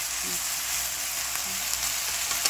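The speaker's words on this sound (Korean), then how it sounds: "제가 방금 여기에다가 다진 가지를 넣었어요. 넣고 이렇게 볶아주시면 됩니다." Minced young eggplant stir-frying with beef in a pan, a continuous close hiss of sizzling oil with faint scrapes of stirring, no one talking.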